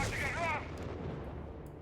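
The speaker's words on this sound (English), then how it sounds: "That's their artillery." Artillery fire in the video game Company of Heroes 3, a short heavy boom with a rumbling tail, briefly overlaid by a voice.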